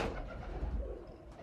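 A pigeon coos nearby in a loft, low soft throaty calls against a quiet background.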